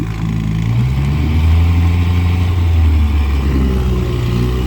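A 1964 Evinrude 5.5 hp outboard motor runs steadily, its low, even engine drone close and loud with a slight rise in revs partway through, no voices over it.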